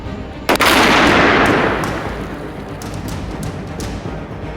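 A Rodentador gas mix ignites in a rodent burrow with one sharp, loud blast, its boom rolling out and fading over a couple of seconds into faint outdoor ambience with a few small distant knocks.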